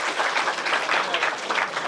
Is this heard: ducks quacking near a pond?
no